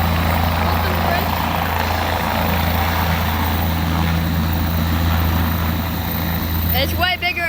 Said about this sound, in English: Isn't it an emergency helicopter?